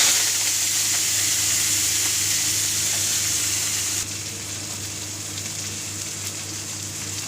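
Chopped khesari greens hit hot oil that already holds dried red chilli, whole cumin and sesame, making a loud, continuous hissing sizzle that drops in level about halfway and carries on steadily; no one speaks.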